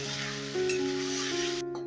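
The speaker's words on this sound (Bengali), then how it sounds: "এবার সোয়াবিনটা একটু ভাজা ভাজা করে নেব" Soybean paste frying in a pan with a light, steady sizzle under a faint low hum, becoming a little louder partway through and cutting off near the end.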